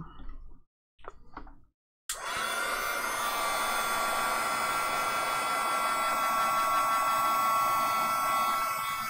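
A hair dryer switches on after two faint knocks and a brief silence, then blows a loud, steady whoosh over wet shimmery watercolor paint, continuous to the end.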